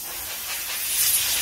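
Compressed air blowing over the carburetor check valves of a Stihl trimmer, a steady soft hiss heard alone for just over a second.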